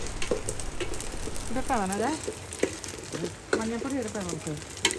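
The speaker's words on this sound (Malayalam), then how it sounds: "തേങ്ങയൊക്കെ വറുത്ത് പ്രസാദത്തിൻ്റെ അകത്തോട്ടിട്ട്" Coconut fries in a pan for prasadam during a Sabarimala pilgrimage, a steady sizzle under people talking nearby, with faint stirring clinks.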